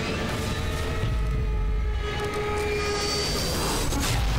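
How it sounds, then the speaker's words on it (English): A plane roars in toward a crash in the video game Left 4 Dead, a sustained loud engine drone with tonal whine holding steady throughout. "Oh, that plane's definitely coming in hot."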